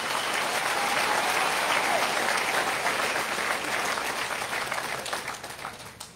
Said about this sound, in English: we should give a big round of applause for this progress today